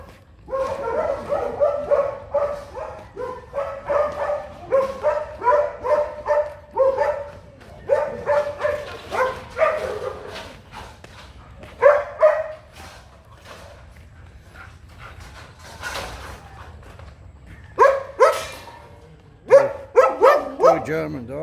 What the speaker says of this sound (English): Of course, there are dogs everywhere and cats.